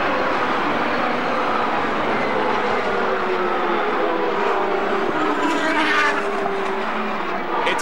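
Indycar race cars roar away at the start of a 200-mile race on the Milwaukee Mile oval, a dense, continuous wash of engine noise with a slight swell near the end and faint commentary underneath.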